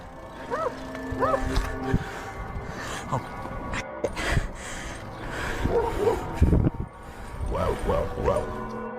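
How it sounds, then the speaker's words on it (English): Several dogs bark and yelp close by in repeated short bursts. A few lower calls that sound like mooing mix in, and there is no speech. "he hears barking behind him and the chase is on again."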